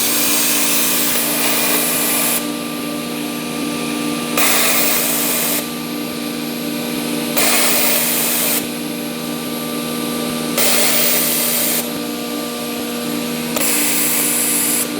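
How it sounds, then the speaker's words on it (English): A CNC nesting machine cutting board gives a loud, continuous mechanical whine and hum, with a hiss that swells and drops in regular stretches of roughly two seconds, alone without any voices. "After finish label, the machine will start to cutting."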